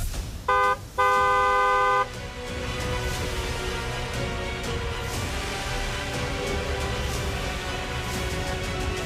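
A car horn blares in two loud, steady honks, one short and one longer, over a constant rumble of road traffic.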